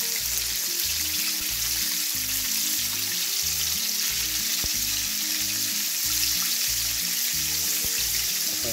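Food sizzles and fries steadily in a pan while Easter dinner is cooked, a dense continuous crackle with no talking and a low hum beneath.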